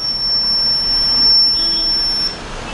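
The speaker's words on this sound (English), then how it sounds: "Buzzer is ringing when the carbon dioxide detected more than" A CO2 gas detector alarm in a vehicle sounds its buzzer as a steady, thin, high-pitched tone held for about two seconds before cutting off, over a low background hum.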